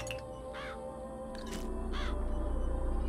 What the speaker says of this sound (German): Komm, los, ihr Raben!